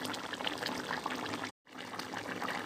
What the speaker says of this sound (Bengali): এখন আর একটু পানি দেব।